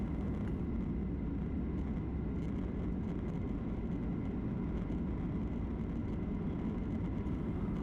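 Icelandair airliner taxiing toward Terminal 7 at JFK in New York, heard from inside the cabin as a steady, loud low engine rumble and broadband roar throughout.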